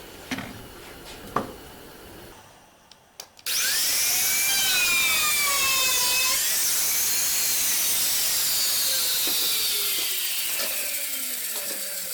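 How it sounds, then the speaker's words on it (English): A router on a guide jig cuts across a wooden pot lid holder. A few light clicks come first, then the router spins up and runs loud and steady for about nine seconds, its pitch rising and falling. "I've got my guide router jig set up. I'm just going to start working my way down and just routing all the way across."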